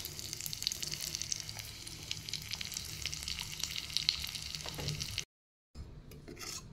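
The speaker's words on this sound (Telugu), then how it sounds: "ఆవాలు అన్నీ వేసి, కొంచెం కరివేపాకు, ఇంగువ వేసి తాలింపు వేసుకుంటే చాలా మంచిగా టేస్ట్ వస్తుంది." Mustard seeds, curry leaves and asafoetida sizzle steadily in hot oil as a tempering for cucumber dal, a dense crackling hiss that runs for about five seconds before a short silence and a quieter stretch of frying.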